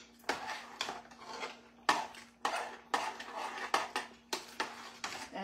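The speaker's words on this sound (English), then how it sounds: "I'm going to just stir this real good." A spoon stirs a thick peanut patty candy mixture with red food coloring in a pot on a turned-off stove. Rhythmic scraping strokes come roughly every half second, close and clear, each ending in a soft knock against the metal.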